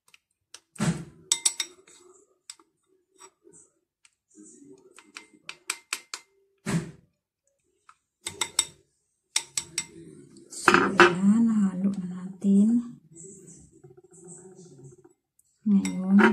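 A utensil clinks and scrapes against a small container while egg white is mixed with Vaseline, irregular sharp taps and stirring rattles, close by, with a voice speaking partway through.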